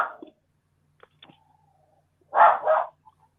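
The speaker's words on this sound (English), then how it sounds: "the dog's barking again" A dog barks twice in quick succession, loud and close, after a few faint yips and a brief whine in an otherwise quiet indoor room.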